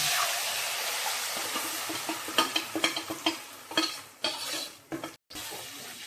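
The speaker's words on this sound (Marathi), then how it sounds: "आपण हे ढवळायचं आणि वर झाकण ठेवायचं." Buttermilk curry being stirred in a pot on the stove, with a steady sizzling hiss and a series of close scraping and knocking spoon strokes against the pot, ending in a brief silence.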